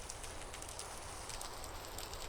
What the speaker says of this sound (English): this rain means we're still not gonna be able to avoid the monsters